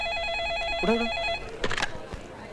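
An electronic telephone ring warbles in a repeating pattern, then stops, followed by a brief clatter like a handset being picked up.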